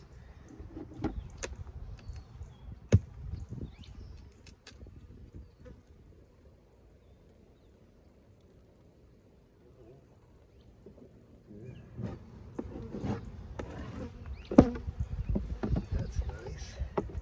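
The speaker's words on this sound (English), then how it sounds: "Ooh, plenty of bees." Honey bees buzz in a steady low drone around an opened hive during an inspection, swelling louder toward the end, with people talking intermittently nearby and occasional sharp knocks of hive equipment.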